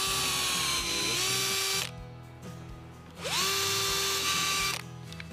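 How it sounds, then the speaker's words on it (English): A power drill whines loudly as it bores into timber, spinning up, pausing briefly, then revving again, close by and alone. "We're going to mark up all our pieces of timber and drill them."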